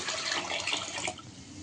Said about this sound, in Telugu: ఈ బియ్యంతో వాటర్ మొత్తం ఇలా వేసేసుకుందాం.